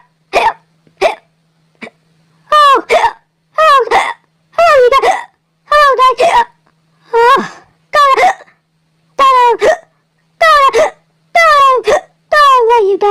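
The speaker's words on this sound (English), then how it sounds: "We're about to die of hiccups." Cartoon characters from the Cars Toon shorts hiccup again and again. A series of sharp, loud, voiced hiccups comes in an uneven rhythm, many of them squeaky and sliding in pitch, with brief pauses between bursts.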